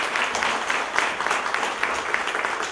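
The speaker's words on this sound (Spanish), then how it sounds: "Un aplauso pedimos para todos." A school audience at a classroom bicentennial presentation breaks into brief, dense applause, many hands clapping steadily and fairly close throughout.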